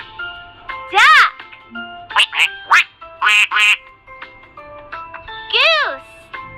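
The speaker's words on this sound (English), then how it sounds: "Duck." A duck quacks several times in loud, clear bursts spaced across the moment, with short quiet gaps between calls and no background noise.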